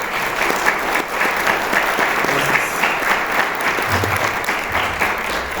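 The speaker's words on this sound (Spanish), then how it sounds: "Lo recibimos con un caluroso aplauso" An audience at a history conference in San Juan del Río, Querétaro, welcomes the speaker with warm, sustained applause, steady and fairly loud throughout, with faint voices beneath.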